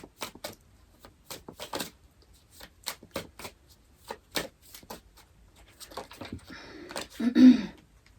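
Tarot cards shuffled by hand, a quick run of soft papery riffles and taps that builds to a denser, louder flurry near the end as cards spill out.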